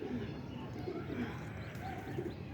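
Teddy pigeons coo softly nearby in a few short, low repeated calls over quiet background noise.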